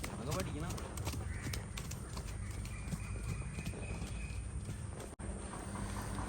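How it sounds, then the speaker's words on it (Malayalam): A young filly trots along during training, and her hooves give a steady rhythmic clip-clop in a noisy outdoor setting where crows call in the background. "ത്രോട്ടിലാണ് കുതിര വരുന്നത്."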